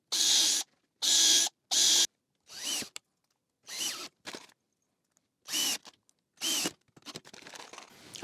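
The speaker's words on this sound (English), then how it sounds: "clamp it down, and then you can drive in your screws" Power drill driving screws into timber boards for a compost bin, several loud bursts of whirring a second or so long, separated by short silent pauses, close up with no speech.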